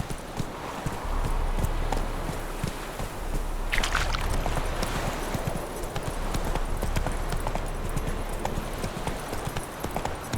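Roach the horse hoofbeats in The Witcher 3: Wild Hunt, steady rhythmic clip-clop running throughout over a low ambient game rumble, with no one talking.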